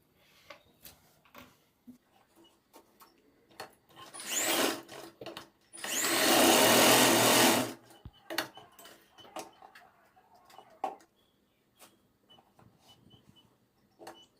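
A sewing machine stitches tucks on a lined blouse in two short motor runs, a brief burst then a longer steady whir, surrounded by sparse clicks and handling taps.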